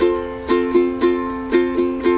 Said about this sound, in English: Now I'm going to change to church lick.